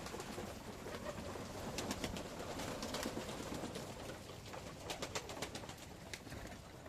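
Pigeons in a loft, soft cooing and scattered bird calls over a faint, busy background, low in level and heard from a short distance.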